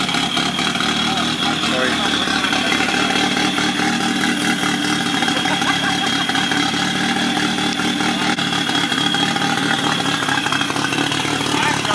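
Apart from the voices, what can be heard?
Toyota 86 engine idle chop at car meet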